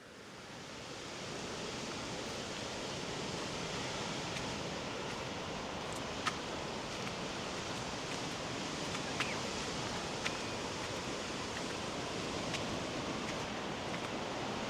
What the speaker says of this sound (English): gently breaking waves, particularly through the summer